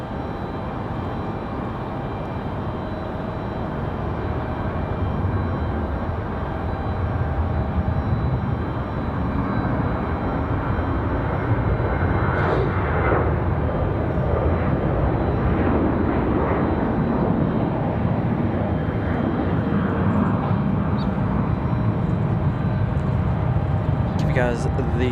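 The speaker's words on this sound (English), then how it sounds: "So another American 737." An American Airlines Boeing 737 jet roars steadily at Raleigh-Durham airport, a broad continuous engine rush swelling slightly over time, heard from a distance with people talking over it.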